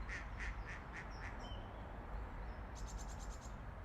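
Ducks quack outdoors beside a cormorant, a few short nasal calls in a quick series at the start and again near the end, faint over a steady low ambient rumble.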